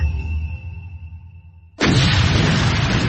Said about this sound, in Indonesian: Tiba-tiba ledakan besar menghantam bukit kecil tersebut